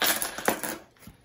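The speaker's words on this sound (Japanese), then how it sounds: "まあ、小銭入れてみよう。" Coins dropped into a small minimalist wallet, a quick cluster of close metallic clinks and rustles that fade within about a second.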